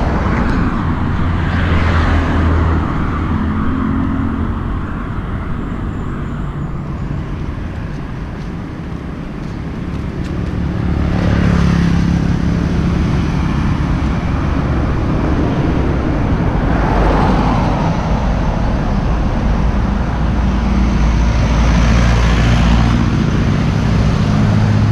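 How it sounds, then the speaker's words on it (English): Street traffic beside the old city wall in Chiang Mai, a continuous loud low rumble of engines with vehicles swelling past in several waves, no talking. "Traffic's fairly light."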